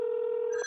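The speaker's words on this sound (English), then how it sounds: "I hear the phone ringing" A steady telephone ringback tone on a Google Voice call plays loud and close as one continuous pure tone, shifting briefly at the end.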